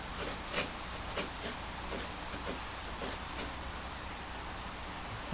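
Shears are sharpened on a freshly flattened 2000 grit stone, giving a steady rhythmic rasping of strokes for about three and a half seconds before the sound eases to quieter scraping.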